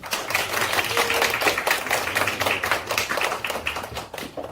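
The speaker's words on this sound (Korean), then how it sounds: "토론회를 시작하는 힘찬 박수로 저희 한번 시작해 보시죠." An audience at a Korean Medical Association presidential candidate debate gives a burst of vigorous applause to open the event, dense clapping that runs steadily for a few seconds before thinning out toward the end.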